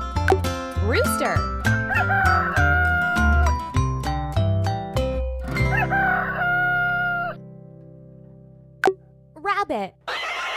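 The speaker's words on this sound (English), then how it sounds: "Rooster." A cartoon rooster crows over a cheerful children's tune, the crow rising clearly above the music near the end as the backing thins out.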